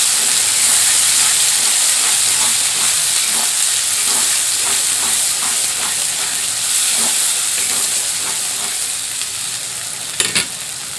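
Spice paste fries in hot oil for a chicken curry, giving a loud, continuous close sizzle and hiss. Stirring scrapes run through it, and a few sharp clinks come near the end.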